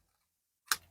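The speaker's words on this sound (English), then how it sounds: "I'm just going to trim it with my snips." A single sharp snip of card being trimmed with snips, one crisp click close by in otherwise near silence.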